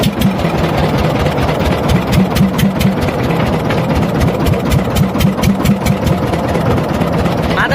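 A boat engine running on a river in the Sundarbans, with a loud, steady, close mechanical drone and a rapid rhythmic chug that holds constant throughout, with no talk over it.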